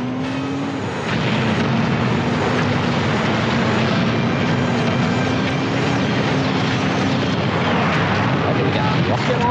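Helicopter in the video game 007: Agent Under Fire, a loud, continuous rotor and engine roar with a steady low hum that holds throughout, with gunfire and game action mixed in and no talk.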